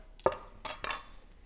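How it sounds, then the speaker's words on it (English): Metal spoon clinking against the inner pot of an Instant Pot while ham is stirred into bean broth, three short distinct scrapes and clinks at close range with no talking. "So we're going to stir in the ham."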